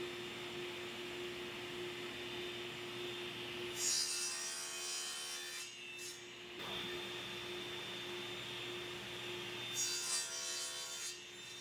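Hand-sawing blocks from a scrap wood board in a workshop, heard as repeated rasping strokes in short bursts over a steady background hum, close and moderately loud, with no voices.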